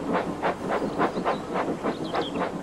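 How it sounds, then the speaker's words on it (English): Animated steam engine shunting a train, giving a rhythmic series of loud, evenly spaced chuffs, about nine bursts of hissing exhaust in quick succession, close and alone with no talk. "I've got to shunt a train."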